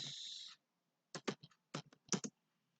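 Keys clack on a computer keyboard as a switch interface command is entered, a short burst of separate close taps after a brief hiss, then quiet.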